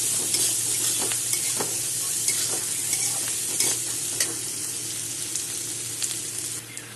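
Onion, potato and chili fry in a pan for soybean bharta, a steady close sizzle broken by repeated scraping stirs of a spatula, with no talking.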